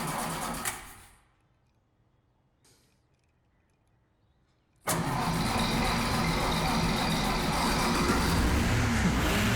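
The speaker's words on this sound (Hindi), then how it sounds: "ये स्टार्ट भी नहीं होगी।" An old taxi car's engine cranks and sputters, falls almost silent for a few seconds, then catches and roars up loudly into a steady, close running rumble.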